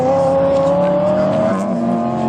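A Lotus Evora drives past at Bimmerfest, its engine droning loudly with a steady pitch that slowly shifts as it goes by, while voices talk faintly in the background.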